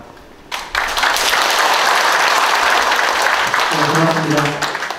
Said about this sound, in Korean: 한 분 소개해 드릴 때마다 큰 박수를 부탁드리겠습니다